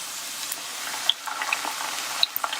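Grated potato latkes frying in a pan, a soft, steady sizzle with scattered tiny crackles and pops, fairly quiet and close, no voices.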